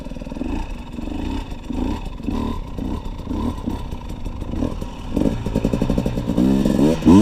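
KTM EXC 250 TPI two-stroke enduro motorcycle revving close by, its raspy engine note rising and falling in repeated blips before climbing into a harder, sustained rev at the end.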